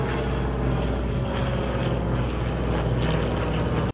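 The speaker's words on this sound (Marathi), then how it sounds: "रॅट जे आहे ना तर ते एका वर्ल्ड वॉर 2च्या विमानासारखं काय आहे की त्याचा आवाज आहे." A ram air turbine deployed from an aircraft gives a steady, loud propeller-like drone with a low throbbing hum, like a small piston-engine plane passing, continuous for about four seconds before cutting off abruptly.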